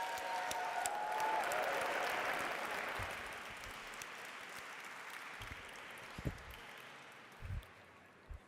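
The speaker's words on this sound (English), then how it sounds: "Let's give a round of applause to all the high school students of Lion" Audience applause for high school lion dance students at a Lunar New Year celebration hosted by city officials, a broad steady wash of clapping that swells early, then thins and fades with a few scattered louder claps near the end.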